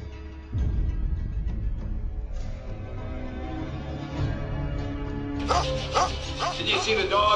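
A dog yips and barks in short bursts over a busy background, with louder, sharper barking toward the end and voices talking throughout.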